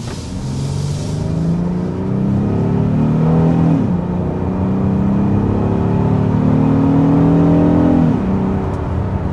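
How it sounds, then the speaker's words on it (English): A 2025 Honda Odyssey Elite minivan engine revs hard under full acceleration and climbs in pitch through two gear shifts, a loud, steady interior drone with rising whine and no talking. "we want to go ahead and start with a hard acceleration"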